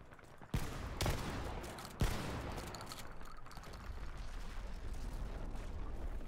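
Gunfire in the online shooter Dirty Bomb, a few sharp pistol shots near the start followed by a continuous rumble of distant battle noise, fairly faint overall.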